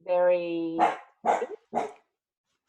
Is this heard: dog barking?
yes